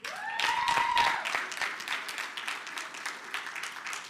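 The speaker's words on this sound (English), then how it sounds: "Make some noise as they step up onto the stage" A crowd at a debate event in a hotel ballroom breaks into loud, sustained applause and cheering for a school debate team taking the stage, with a whistle near the start, then the clapping eases gradually.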